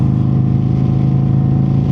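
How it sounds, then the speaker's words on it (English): Cammed and tuned performance 2025 Harley-Davidson Road Glide cruising in third gear around 52 mph, its exhaust a loud, smooth, steady low hum with no talking. "you can hear that exhaust just humming"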